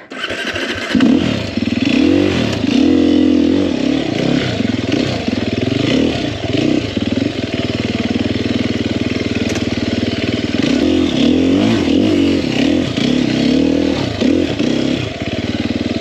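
A 2021 Sherco 300SEF four-stroke dirt bike on a trail, its engine chugging and rising and falling in pitch with throttle, loud and close for the whole stretch, with an initial start-up burst and no speech.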